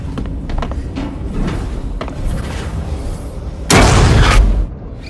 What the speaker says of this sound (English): with this insane explosion